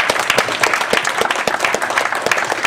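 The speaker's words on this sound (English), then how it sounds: "So give him a round of applause." An audience at a mixed martial arts pre-event press conference claps in a brisk, dense burst of applause, steady and fairly close, with no voices over it.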